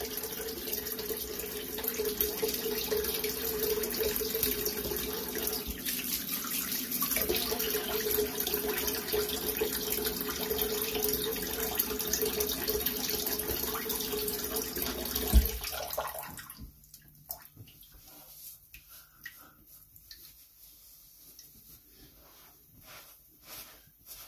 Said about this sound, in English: so I'm going to go ahead and rinse off